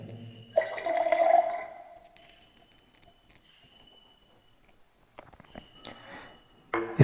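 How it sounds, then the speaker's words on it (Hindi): Hydrogen peroxide at 3% concentration is poured into ethyl alcohol, a brief liquid splash and trickle lasting about a second, then quiet handling and faint clinks. "अब मैं इसमें मिक्स करूँगा हाइड्रोजन पेरोक्साइड।"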